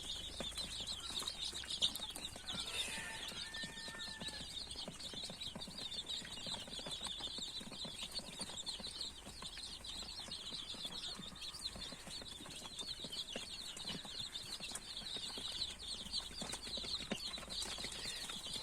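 Desi chicken chicks hatched in an incubator peck and feed on grain, with a steady hiss of ambient noise and faint, scattered chirps and pecking sounds throughout.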